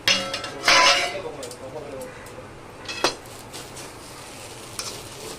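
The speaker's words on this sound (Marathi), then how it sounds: "खिचडी चांगली हलवून झालेली आहे" Sabudana khichdi stirred in a pan, with a few scraping strokes and clinks of the spoon against the metal early on, then quieter occasional knocks over a low background hiss.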